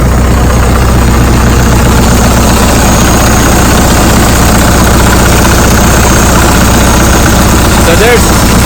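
Diesel engine of a Case 580CK backhoe idling as it warms up after hydraulic line repairs, a steady low rumble with heavy vibration running loud and continuous throughout, a brief clank near the end.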